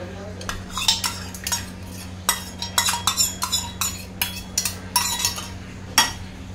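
A spoon stirs yogurt into tomato puree masala in a pan, scraping and clinking against the metal in quick, irregular strokes that run throughout.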